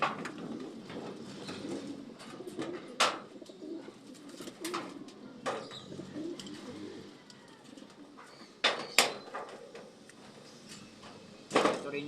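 A pet pigeon that has just begun molting coos softly at a distance, sending repeated low murmurs under quiet outdoor background noise, with a few sharp knocks and clatters sounding close by.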